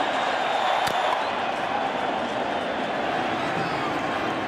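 Large baseball stadium crowd at a 2009 Phillies World Series game roaring steadily after a home run by Utley, calling for a curtain call, a dense sustained wash of cheering with a brief sharp clap near the start.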